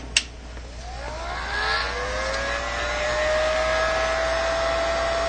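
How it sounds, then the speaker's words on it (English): A heat gun on its low setting blows steadily after a sharp click at the start, its whir rising in pitch and settling into a constant tone while warming adhesive for a poncho repair. "I'm going to hit it just a little bit with a heat gun."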